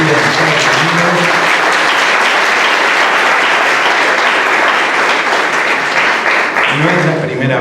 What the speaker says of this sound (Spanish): ¿No le quieren dar un fuerte aplauso a un español que ahora reside en Estados Unidos?